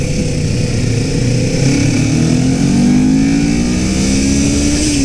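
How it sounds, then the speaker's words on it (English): Kawasaki Ninja 400 motorcycle, a 2018 model, revving steadily with intake roar as the engine climbs through the revs, loud and close throughout with a rising engine tone and no talking. "You hear the intake noise till it gets up into the high revs, and then you just hear mechanical clatter"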